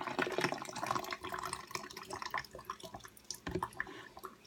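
Water poured into a container while making southern sweet tea, an uneven splashing and trickling stream with drips, strong at first and fluctuating, no talk.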